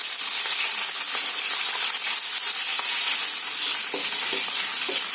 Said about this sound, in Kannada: ಹಸಿಮೆಣಸಿನಕಾಯಿ ಹಾಗೂ ಫ್ರೈ ಮಾಡಬೇಕು